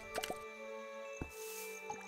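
Watering crops in the video game Winkeltje: The Little Shop: a few short, wet squishing drips in quick succession near the start, then two more isolated splashes later over a quiet steady background.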